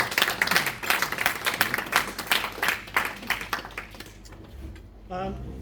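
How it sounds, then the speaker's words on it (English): A room full of people applauds, a dense patter of clapping that gradually thins out and fades, ending with a brief voice. "So I think a round of applause."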